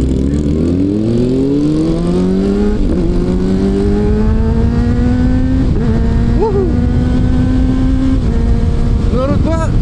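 A Kawasaki ZX-636 600cc four-cylinder sport motorcycle engine revs repeatedly, its loud rising whine climbing and dropping with sharp pops and crackles between throttle blips, close to the bike.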